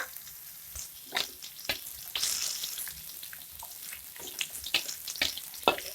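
Shrimp paste fries with golden shallots in a pan, a low sizzle dotted with irregular sharp pops and crackles that grow busier toward the end.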